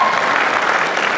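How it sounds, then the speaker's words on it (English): An audience claps steadily as a performer is brought onto the stage at a talent show. The applause is dense and continuous, loud and close, with no voices over it. "You can still clap."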